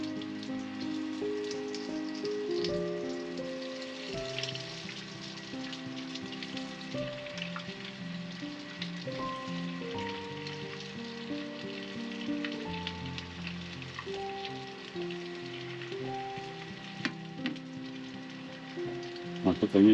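Yellow belly fish frying in hot oil gives a steady, close crackle and sizzle that runs the whole time beneath louder background music.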